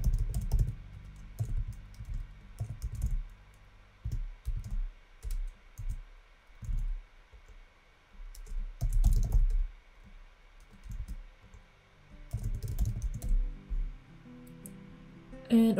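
Someone types on a computer keyboard in irregular bursts of soft, close key clicks and thumps, pausing between runs of keystrokes.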